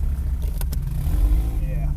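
A car's engine rumbles steadily up close as it pulls out onto the track on a track day, a low, constant drone that builds slightly as it accelerates, with voices talking over it.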